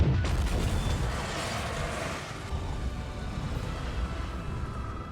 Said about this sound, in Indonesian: Wade pun menyalakan sebatang korek api itu ke saluran oksigen, yang seketika terjadilah ledakan dahsyat di sana